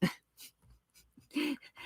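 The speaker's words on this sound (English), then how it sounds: "That was my dog. He just laid on the computer." A dog pants close to the microphone beside a computer, giving a few short breathy bursts with a brief whimpering tone near the end, and no other sound.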